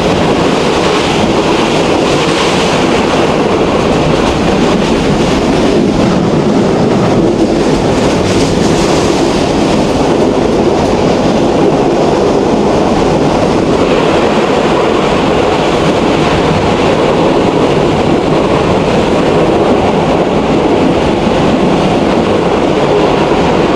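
Jayantika Express passenger train running between Dhaka and Sylhet, heard from inside the carriage: a loud, steady roar of wheels and rattling with continuous clickety-clack and wind noise, no voices.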